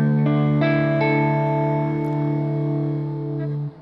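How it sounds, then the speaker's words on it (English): An electric guitar runs through a bit crusher distortion effect controlled by an expression pedal, a sustained, buzzy chord that rings out for several seconds and is struck again partway through, loud and close. "all of the distortion is happening in the background"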